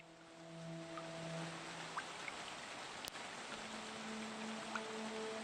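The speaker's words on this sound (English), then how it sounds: "On a rainy day like this?" Rain falls in the video game The Forest of Drizzling, a soft, steady patter with scattered faint drop ticks under quiet tonal game music, with no one speaking.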